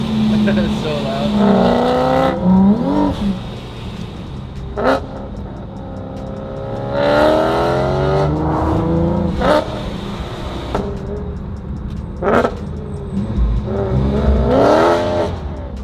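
Supercharged car engine revving hard during a race, loud rising and falling roars in repeated bursts with rumbling between, while people talk excitedly over it.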